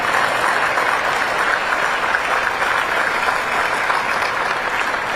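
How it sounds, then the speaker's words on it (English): A large crowd at the West Point military academy graduation ceremony claps steadily during the President's commencement speech, a dense, even roar of applause with no voices over it. "You can clap for that."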